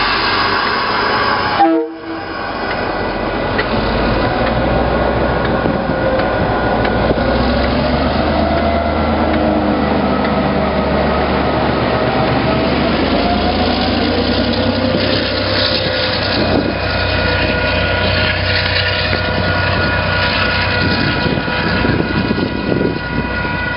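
A diesel locomotive rumbles steadily and loudly nearby, its engine droning with shifting tones, after a brief abrupt break near the start.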